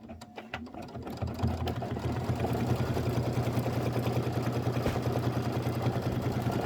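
An embroidery machine stitches the tack-down of a window appliqué in cappuccino thread, a fast, even mechanical whir with rhythmic needle clatter that builds after a few uneven starting taps and runs steadily, close and loud, with no talking.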